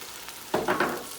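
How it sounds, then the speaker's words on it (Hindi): Potatoes and eggplant (aloo baingan) frying in a pan, with a few short sizzling bursts as the vegetables are stirred, close and moderately loud. "हमारे आलू बैंगन माशाल्लाह बहुत अच्छे फ्राई हो गए"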